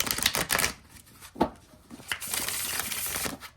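A tarot card deck with gilded edges being shuffled, giving bursts of riffling card flutter with short pauses between, close and fairly quiet.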